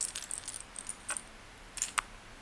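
Shell jewelry dangles made from the insides of shells clink together in faint, light, scattered taps, a few close ticks and small jingles over a quiet background.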